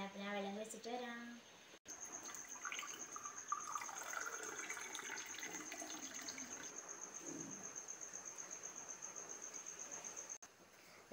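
Water runs from a kitchen tap in a steady, faint hiss for several seconds, beginning after a brief tonal sound, with no talk over it.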